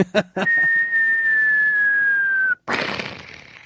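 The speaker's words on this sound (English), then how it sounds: "None of that whistling crap." A couple of short sharp noises, then one long steady whistled tone that slides slightly downward for about two seconds before cutting off into a burst of noise.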